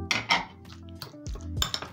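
Avocado mash with tomatoes and diced onion being mixed in a bowl, giving scattered clinks and scrapes of a utensil against the bowl, close by and moderately loud, with brief thuds in between.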